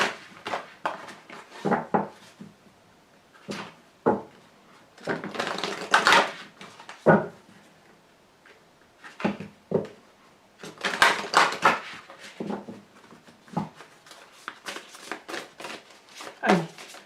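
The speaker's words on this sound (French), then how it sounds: "je vous tire une carte" Tarot cards being shuffled and drawn in irregular bursts of papery riffling and flicking taps, close and fairly faint, with pauses between handfuls.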